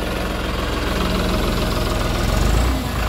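A New Holland 5620 4x4 70 hp tractor engine idles in a steady, dense, rumbling drone with a faint knocking texture, close and loud throughout, no talk.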